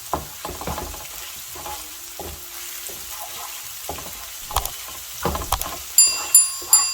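Pan-fried chicken masala sizzling on a tawa, a steady soft fry broken by scattered stirring scrapes and clinks, with sharper metallic taps near the end; no talking.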